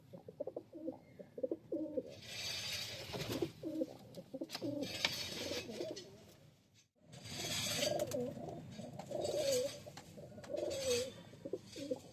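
Domestic pigeons, a breeding pair, coo in soft repeated throaty phrases close by, with a short quiet gap midway before the cooing resumes, alone without talk.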